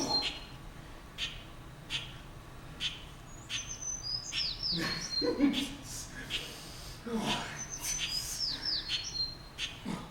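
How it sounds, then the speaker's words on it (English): Captured bird giving short, high chirps in a few separated bursts, fairly faint against a quiet background with rustling and breathing-like noises and occasional speech. "I have caught a beautiful bird to give to my new wife"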